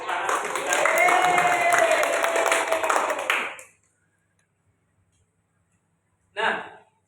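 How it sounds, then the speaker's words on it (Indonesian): Classroom applause from a fifth-grade class, a dense burst of many hands clapping for about three and a half seconds before fading out, followed by silence and then a short second flurry of claps. "Tepuk tangan untuk kita"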